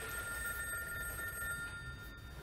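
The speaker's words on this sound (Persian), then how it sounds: "باش برو تلفن رو جواب بده دیگه" A telephone rings steadily in a quiet domestic scene, its sustained electronic bell tone continuous and fairly loud over faint room noise, with no talking.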